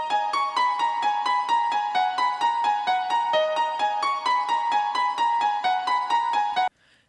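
A piano part played back in Ableton Live with no groove applied: a steady, evenly spaced run of bright repeated notes and chords, loud and alone, stopping abruptly near the end.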